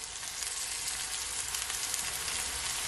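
Carrot and tomato sizzle in a hot pan for a chicken and vegetable stir fry, producing an even, continuous bright hiss that stays close and moderately quiet throughout, with no talk.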